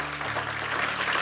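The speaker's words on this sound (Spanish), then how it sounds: "Un aplauso al Señor." Church congregation applauding during a Spanish-language sermon, a dense steady wash of clapping filling the whole moment at moderate loudness.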